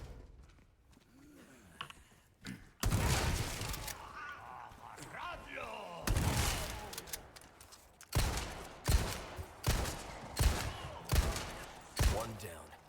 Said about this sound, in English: I guess I could just run up and shotgun this guy.